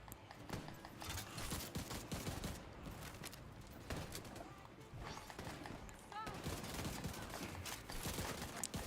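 Rifle gunfire in the shooter game The Division 2, a rapid series of shots in bursts of rhythmic cadence, mixed with game effects and a voice talking over it.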